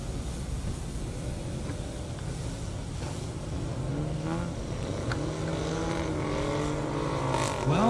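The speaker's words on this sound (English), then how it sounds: "Well, the Audi found the gas pedal first and made really good use of it" Two drag cars, a Nissan 350Z and an Audi RS7, launch side by side on an airport strip, engines droning loud and steady with rising revs and tire noise building toward the end, no talk over it.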